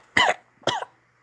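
Two sharp coughs, close and loud, with a short pause between them and silence afterward.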